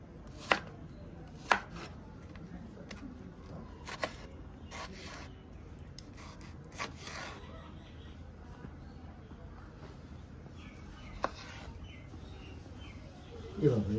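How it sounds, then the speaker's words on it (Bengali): A knife chopping cabbage on a board in a home kitchen, a handful of sharp, irregularly spaced chops over a steady low background hum, with faint chirps in the distance. "কিশমিশ দিয়ে আর বাঁধাকপিতে দেব, তাই কাটাকুটি করছি।"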